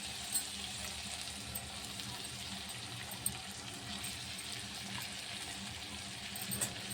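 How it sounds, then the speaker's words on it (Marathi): Pav bhaji masala and red chili powder sautéing in a pan give off a soft, steady sizzle and crackle with a few faint clinks, quiet and continuous with no talking. "आणि ही जी आपली लाल मिरची पावडर राहिलेली होती ना थोडी ती टाकते आणि हे सगळं असं छान असं परतून घेणार आहे"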